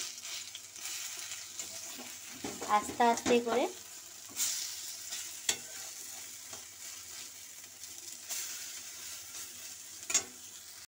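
Prawn-shell fritters (bora) frying in oil, a soft steady sizzle with a cluster of louder spatula scrapes and clinks while they are turned, and someone speaks briefly.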